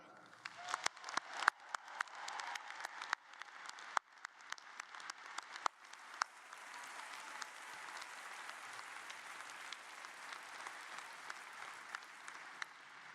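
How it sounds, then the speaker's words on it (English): An audience at a college commencement applauds for the faculty: sustained, moderately distant clapping from a large crowd, with sharper individual claps early that blend into a steady wash. "Please join me in giving applause to our faculty."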